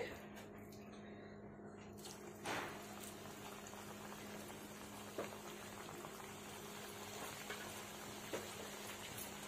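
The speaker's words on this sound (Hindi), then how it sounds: "तो अब हम डाल देते हैं दूसरे बैच के पकौड़े।" A second batch of chicken keema pakoras bubbles and crackles in hot oil at a steady, fairly quiet level, with a few soft clinks and taps now and then.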